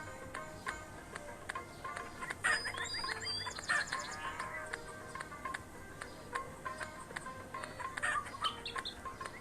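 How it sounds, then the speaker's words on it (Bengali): A chicken in the Meena video game gives short clucks and chirps in brief bursts among light ticking game sounds, with no talk. "ওই যে মুরগি।"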